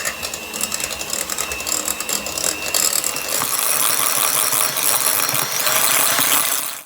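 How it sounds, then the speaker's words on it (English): A hand-cranked flour sifter ratchets and rattles quickly and steadily, a close, gritty metallic clicking that keeps going for several seconds before stopping abruptly. "This is actually to sieve your flour and your baking powder so it's nice and soft, so it doesn't clump, right?"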